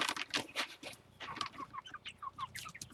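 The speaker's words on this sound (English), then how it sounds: "as you can see, we got a whole bunch of chickens" A large flock of chickens on a homestead clucks and chirps in a close, busy chorus, with several short, rising calls repeating one after another.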